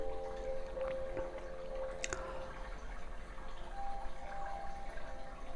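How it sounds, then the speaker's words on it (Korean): Gentle recorded water sounds, soft trickling and dripping with a faint tonal hum underneath, calm and continuous with no voices. "이 물소리 음악 좋지 않습니까 지금?"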